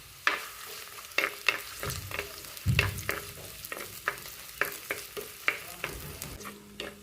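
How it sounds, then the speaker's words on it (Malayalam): Garlic, ginger, curry leaves and green chillies frying in a pan for a coconut fish curry, a steady soft sizzle punctuated by repeated sharp clinks and scrapes of a spoon stirring against the pan. "വെളുത്തുള്ളിയും ഇഞ്ചിയും കറിവേപ്പിലയും എരിവുള്ള 2 പച്ചമുളകും കൂടി ചൂടാക്കിയെടുക്കാം."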